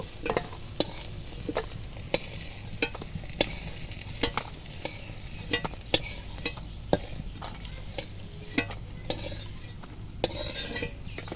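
Taro flower fritters (bora) sizzling in hot oil in a pan while a metal spatula stirs them, giving a steady frying hiss broken by regular sharp scrapes and clinks, close and with no talking.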